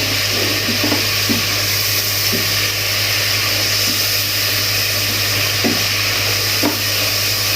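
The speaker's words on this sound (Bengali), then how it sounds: "দিয়ে আমরা এখন এটাকে ভাজা ভাজা হতে দিব" Chicken seasoned with salt and ground pepper fries in a pan for chicken vegetable fried rice, giving a steady close sizzle with occasional soft stirring scrapes and taps, and no talking.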